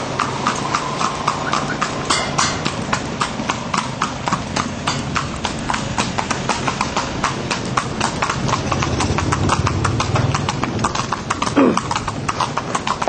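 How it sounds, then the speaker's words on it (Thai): Hooves of a carriage horse clip-clop in a quick, steady rhythm close by, loud and continuous throughout, with some faint talking underneath. "นั่งรถม้าอยู่ใช่ไหมฮะ"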